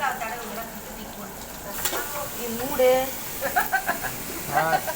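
Tomatoes sautéing with ginger and garlic in a pan give a steady soft sizzle and hiss throughout, faint beneath a person talking.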